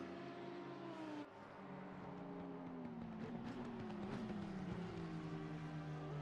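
Racing engines drone steadily from a GT3 sim race at Imola, a Honda against a McLaren, with rising and falling tonal whines as cars shift and pass, continuous and fairly close.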